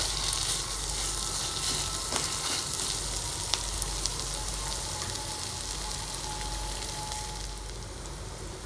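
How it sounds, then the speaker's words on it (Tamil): Onions sautéing in oil with ginger, garlic and curry leaves for a spicy tomato chutney, an even, steady close sizzle with a few faint clicks and no speech. "இன்னும் கொஞ்சம் பொன்னிறம் மாறுற அளவுக்கு இதை வதக்கிக்கலாம்."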